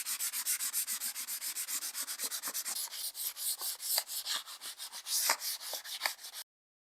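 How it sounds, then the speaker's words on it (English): Dry paper-covered columns being smoothed by hand with 400 grit sandpaper, a close, quiet series of rhythmic back-and-forth rubbing strokes, steady at first and then more irregular, with no talking. "The columns are dry and ready to be smoothed out, and I'll be using 400 grit sandpaper."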